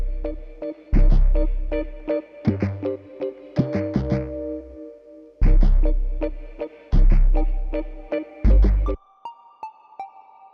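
Layered one-shot bass samples stacked into a music-production beat for a track: deep, booming bass hits in an uneven rhythmic pattern with tonal layers, ending in a sustained synth tone.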